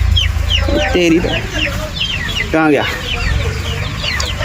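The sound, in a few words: chickens clucking on a desi poultry farm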